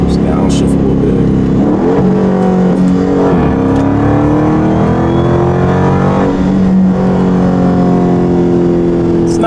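A Dodge Scat Pack with catless mid-pipes revs repeatedly, its loud exhaust rising and falling in several throttle blips with rasping, droning tones, close to the car and steady in volume.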